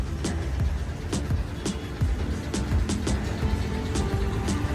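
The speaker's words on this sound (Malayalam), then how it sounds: "അപ്പോൾ ഇതാണ് Thampanoor K S R T C bus stand കേട്ടോ" Thampanoor KSRTC bus stand in Thiruvananthapuram, with a busy rumble of idling buses and vehicles and sharp repeated clicks and knocks cutting through the steady engine noise.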